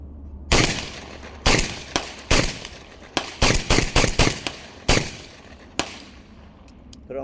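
A Mac 1014 shotgun, a Benelli M4 clone, fired in a string of about ten loud, sharp blasts, some spaced apart and some in quick succession, with echoing decay outdoors.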